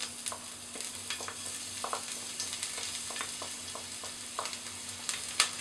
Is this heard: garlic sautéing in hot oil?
yes